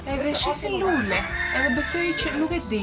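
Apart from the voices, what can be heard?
rooster crowing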